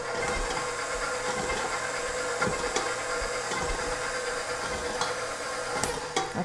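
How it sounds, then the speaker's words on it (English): Butter melting in water in a pot on the stove is stirred slowly, giving a steady hiss and simmer with scattered soft clinks and scrapes of the spoon against the pot. "we start this on a nice slow stir"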